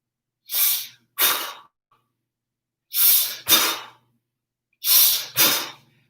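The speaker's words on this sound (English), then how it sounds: "Very, very, very quick deep breathing. Very, very quick breathe out." Rapid deep breathing exercise from Zen tai gong: three pairs of forceful, quick breaths out, each pair a hard double rush of air, loud and close with silence in between.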